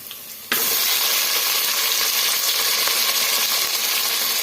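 Goat mutton pieces dropped into a hot pan for hotel-style mutton sambar set off a sudden loud sizzle after a brief quiet start, then a steady, close, crackling fry that holds for several seconds with no talking.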